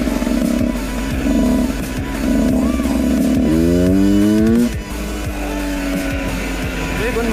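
A Husqvarna 125 WRE motorcycle engine runs close by with a throaty drone. Its pitch climbs as it revs, then drops back to a steady rumble.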